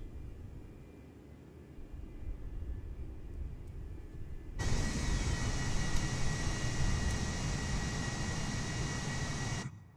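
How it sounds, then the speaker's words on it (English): A Cirrus Vision Jet G2 engine in Microsoft Flight Simulator spools up at startup, a steady whooshing roar that steps up sharply in loudness partway through and holds before cutting off. "let's get the engine started, which is very simple to do"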